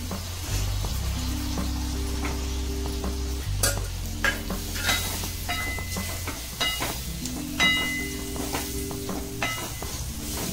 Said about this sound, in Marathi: टोमॅटो पण चांगले मसाल्यावरती परतून घेऊया।